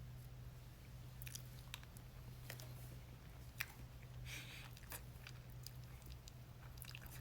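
Someone chews and bites into birthday cake close to the mic, soft wet crunching and munching under a steady low room hum, with no talk over it.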